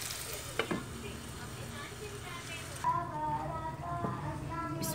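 Peas cooking in a covered pan for a chicken and vegetable dish, giving a steady low sizzle and bubbling with a few clinks of the lid or a spoon, close and moderately loud, with no speech.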